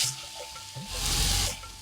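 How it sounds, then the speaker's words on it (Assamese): Boiled kabuli chickpeas tipped into hot, sizzling masala in a kadai, giving a sudden loud hiss and crackle that swells for about a second and then settles back to a quieter fry. "এতিয়া মই ইয়াত বুটখিনি দি দিম"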